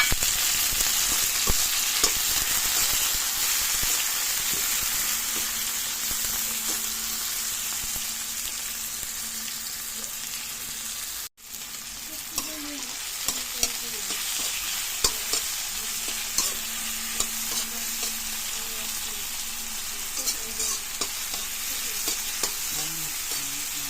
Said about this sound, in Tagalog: Mix natin yung kamatis sa tanglad.